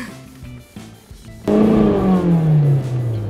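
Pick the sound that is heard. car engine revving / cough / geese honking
car engine revving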